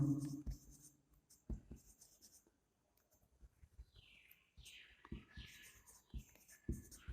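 Pen or pencil writing an answer by hand during a maths lesson: soft, close scratching strokes and taps in short irregular bursts, quiet and intimate, with a voice speaking between them.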